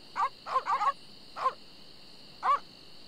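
Piranha poodle dogs in The Secret of Monkey Island gobble down meat, giving five short, bright yips and snuffles in quick clusters over a quiet hum, with a longer gap before the last one.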